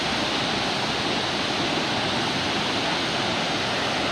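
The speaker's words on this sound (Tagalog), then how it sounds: "Ilog ng Kolondatal mga lods." River water flowing near Kolondatal Falls in Tampakan, South Cotabato, a steady, dense rushing roar that stays loud and unbroken throughout with no voices.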